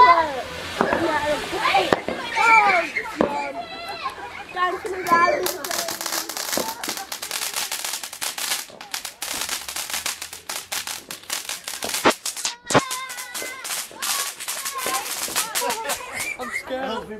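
Fireworks and firecrackers bursting outdoors on Bonfire Night, with sharp cracks and pops scattered through the clip among voices talking and reacting nearby.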